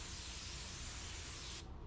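A spray gun lays clear coat onto car panels in a steady, close, continuous hiss that holds evenly before cutting off abruptly near the end.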